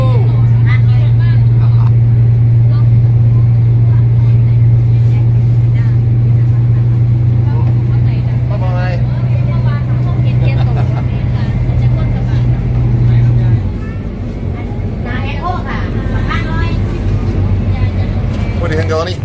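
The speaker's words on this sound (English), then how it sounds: "The brand new Udon City bus." Riding inside a new Udon City bus, a loud steady engine drone with a low hum and road rumble; the hum drops away partway through, and voices talk over the noise.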